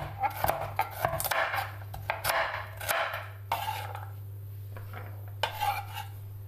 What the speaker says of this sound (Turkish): Havucumuzu da iri küp şeklinde doğruyoruz.